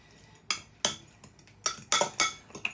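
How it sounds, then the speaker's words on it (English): Sauce with a splash of pickle juice being stirred in a bowl, heard as about eight sharp clinks and scrapes of a utensil against the dish in uneven strokes, close and clear with no talking. "we're going to give that a good stir"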